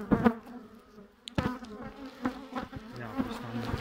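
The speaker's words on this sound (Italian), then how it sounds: "Io qua riesco a vedere in mezzo al ronzio, spero che si senta, e anche qualche ape che passa davanti all'obiettivo." Bees buzzing at a beehive during a honey super check, a steady close insect drone with individual bees passing near, plus a few sharp knocks and handling sounds.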